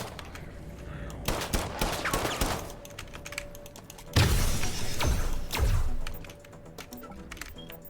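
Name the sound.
gunfire in video game System Shock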